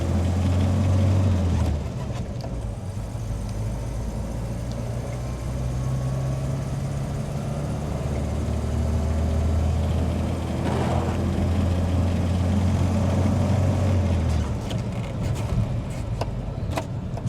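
A Citroen DS hums along while driving, its engine a steady low drone from inside the cabin with faint road noise and small bumps.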